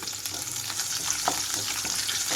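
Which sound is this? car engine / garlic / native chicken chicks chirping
garlic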